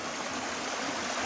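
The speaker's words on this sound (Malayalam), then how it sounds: "ആ വെള്ളം ഒലിക്കുന്ന സ്ഥലത്തെത്തി." Water flows in a stream on the trail to Ayyappanovu waterfall, a steady, close, broadband rush with no other sounds and no voices.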